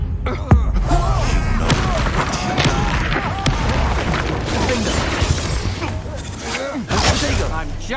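Confringo spell explosions in Hogwarts Legacy burst with sharp blasts and booming crashes over dense game combat noise, while a player speaks throughout.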